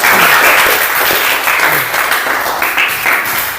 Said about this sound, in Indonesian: Tepuk tangan kepada kalian semua.